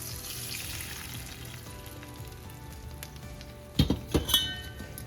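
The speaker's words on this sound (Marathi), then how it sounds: "आता ही मिरची पण पांढरी दिसायला लागली, मिरची तळली आणि उडीद डाळ पण तळलेली आहे" Chillies and urad dal fry in oil for a tempering, a soft, continuous sizzle close by, broken near the end by a few sharp clinks of a utensil against the pan.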